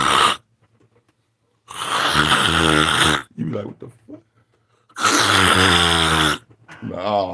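A voice imitates loud snoring, with two long, rasping snore sounds a few seconds apart and short spoken remarks between them.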